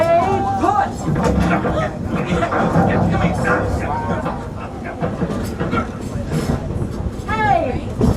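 A train on a Walt Disney World ride rumbles along steadily with rhythmic clacking under busy, overlapping voices and music-like tones, loud and close throughout.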